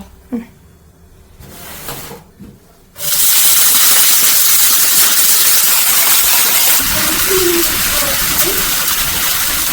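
Spring onion stalks hit a hot pan at about three seconds and set off a loud, steady sizzle that carries on to the end, after a few quiet kitchen sounds.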